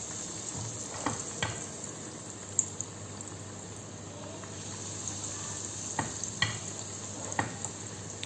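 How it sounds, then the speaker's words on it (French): Stuffed sandwich bread frying in hot oil, a constant close crackling sizzle with a few sharper pops and spatters scattered throughout, no talking. "Et je commence à faire frire. Donc mes pains de mie farcis."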